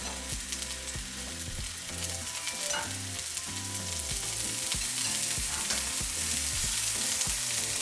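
Six halved tomatillos, laid cut side down in hot oil in a skillet, sizzle steadily and close up, the frying hiss growing slightly louder over faint background music.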